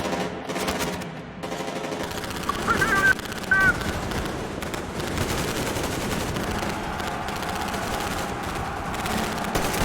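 Sustained machine-gun fire in Metro Exodus during a barricade fight, dense rapid shots rolling continuously at high volume with a few sharper bursts standing out.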